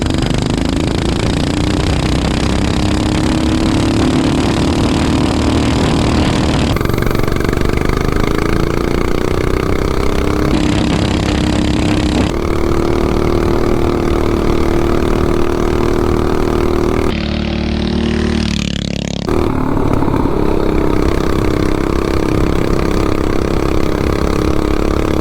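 Mini bike with a 420cc engine pulling away as the clutch engages, a loud, sustained engine drone that climbs in pitch as it gains speed, with abrupt shifts in tone along the run and no talking.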